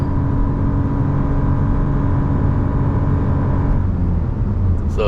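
A Perodua Ativa Hybrid accelerates on the highway in D mode, with a steady, loud cabin drone of engine and road noise that holds evenly throughout, no talking.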